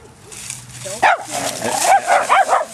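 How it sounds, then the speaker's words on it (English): A dog lets out a few short barks and yips in quick succession, fairly close and loud, with a person talking around them. "Andy, don't bark, Andy."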